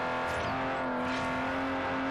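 A car engine roars loudly and steadily in the Forza Horizon racing game, a sustained droning whine at constant pitch filling the whole moment, with no talk over it.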